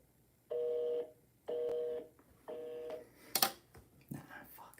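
Telephone keypad tones as a number is dialed: three steady two-note tone bursts of about half a second each, followed by shorter clicks and faint rustling, close and moderately loud.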